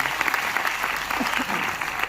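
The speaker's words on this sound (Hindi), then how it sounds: "एक बार जोरदार तालियां पासवान जी को।" An audience at a motivational seminar applauds loudly and steadily, with dense, continuous clapping filling the whole stretch.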